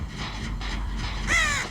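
A crow caws once near the end in the video game Dead by Daylight, a single harsh call over a low rumbling ambient drone with faint tonal washes.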